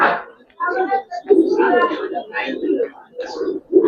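A male Giribaz pigeon coos in soft, low, throaty pulses close by while people talk over it.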